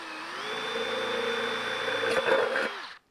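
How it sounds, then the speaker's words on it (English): A power drill boring a hole through the thin metal side of a coffee can, a steady close whine that dips briefly as the bit catches, then stops abruptly. "Try and get a hole drilled here."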